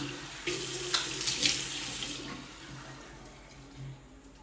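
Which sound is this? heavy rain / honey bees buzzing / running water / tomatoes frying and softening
running water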